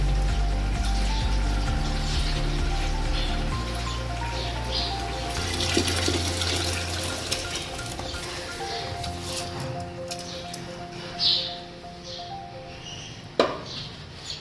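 Soaked rice is poured into a pot of partly cooked vegetables for khichdi, giving a brief wet, splashy rush of grains and water over steady background music.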